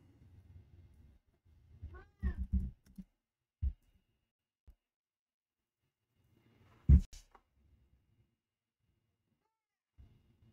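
A house cat meows a few times, short close calls scattered between silent gaps, with some soft handling noises.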